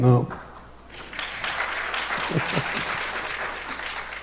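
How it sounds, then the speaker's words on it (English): Conference audience applauding, a sustained wash of clapping that swells after a brief loud start and holds steady at moderate level for several seconds. "everybody is applauding for such a statement"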